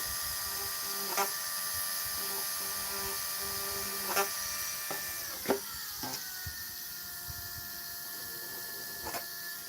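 A drill whines steadily at a slow speed, boring holes for a gun rack, with a few sharp clicks and a pitch that shifts partway through, heard alone and fairly close.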